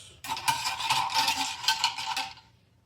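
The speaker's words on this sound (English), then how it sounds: "Now, I will stir this" A Thanksgiving cocktail being stirred, a spoon clinking and swirling against glass and ice in a steady, close run of bright scraping for about two seconds before fading out.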